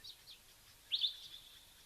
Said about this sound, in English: That is a dark-capped bulbul.